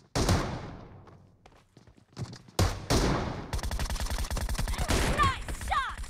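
Gunfire in PUBG Mobile, with sniper shots included: loud single shots, then a quick string of rapid bursts building to sustained fire, with some ringing echoes near the end.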